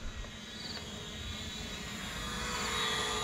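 Small KF101 Max budget drone hovering, a steady whirring buzz from its propellers holding level and swelling slightly louder toward the end, close by with no voices.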